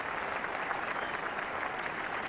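Cricket ground crowd applauding as Pakistan reach 100 runs against England, a steady wash of distant clapping from the stands, fairly faint and continuous.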